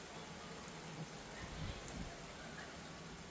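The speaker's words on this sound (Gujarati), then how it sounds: "કારણ કે વરસાદ તો છે ને પૂરેપૂરો જામ્યો છે ભાઈ" Quiet, steady heavy rain in Surat, a hiss with soft patter, faint and distant, a few low thumps in the middle.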